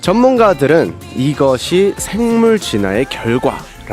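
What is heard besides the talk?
No everyday noise stands out behind the speech.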